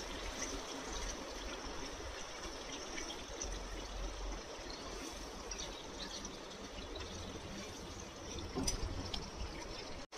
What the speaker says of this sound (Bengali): এবারে এটাতে দেব গরম জল 1 কাপের মতো গরম জল দিয়ে এটাকে ভালো করে মিশিয়ে নেব।